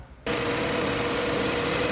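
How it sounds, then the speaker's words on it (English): A 2013 Jaguar XF engine starts up after a brief quiet moment, then runs steadily at idle, close and loud, with a constant mechanical hum and no talking. "All right, engine's running."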